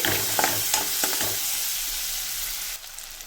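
Chopped onions hit hot oil in a pan while cooking restaurant-style butter chicken, crackling in a loud steady sizzle. A few stirring scrapes sound near the start, and the frying noise drops slightly toward the end.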